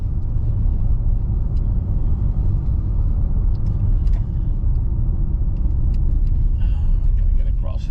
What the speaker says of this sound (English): Gotta get across this garbage truck.